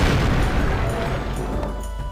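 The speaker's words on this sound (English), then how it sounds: "And let's bomb that city again." A bombing raid on a city in Civilization III produces a loud, sustained low rumbling boom that rolls on and then tapers slightly, with no speech over it.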